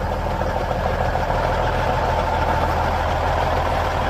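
A 1997 International 9300 truck engine idles with a steady, deep diesel rumble, close and loud, unchanging throughout with no voices.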